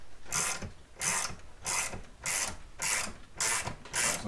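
An Easy Boost bearing puller draws a bearing off a moped crankcase, giving regular loud ratcheting, grinding bursts about twice per second as the screw is turned, with short pauses between strokes and no talk.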